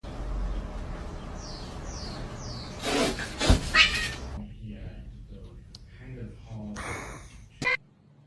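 A kitten gives several short, high meows and cries, near and fairly loud, mixed with a voice talking and brief rustling bursts.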